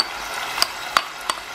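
A ground paste of tomato, onion and green chili added to hot oil in a pan gives a steady soft sizzle, broken by three faint clinks of stirring.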